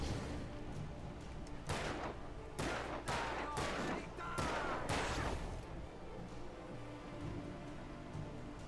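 Repeated gunfire from the video game Alan Wake, a string of loud sharp bursts clustered in the middle over a constant dense game soundscape.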